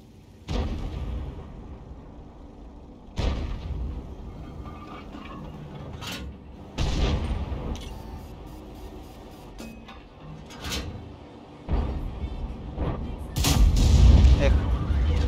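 Artillery and tank cannon fire in a tank video game: several heavy booming shots land a few seconds apart, each a sharp loud blast with a rumbling decay, over a quiet engine hum.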